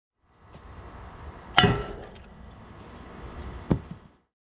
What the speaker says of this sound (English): And now the satisfying part, one shot from a hammer.